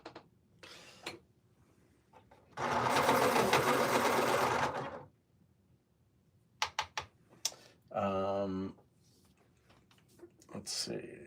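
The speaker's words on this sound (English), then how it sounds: "Sharpen my You Can Draw Star Wars pencil." Pencil sharpener grinding a drawing pencil for about two seconds, loud and close, with a person talking and some tapping and handling noises before and after.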